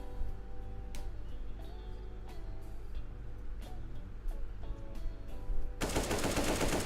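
Rapid automatic gunfire from the video game CS:GO rattles in dense bursts over layered game sound, growing into a loud, sustained burst of shots near the end.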